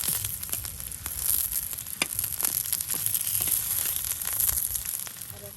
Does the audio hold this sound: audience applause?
no